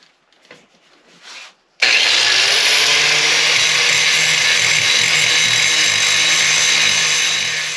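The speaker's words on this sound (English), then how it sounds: "Now I've just got to grind that flat." A power tool grinds a metal spacer part flat while fixing the PAS sensor on a TerraTrike Charge. Brief quiet handling noise gives way to a loud, steady grinding roar that holds close and unbroken to the end.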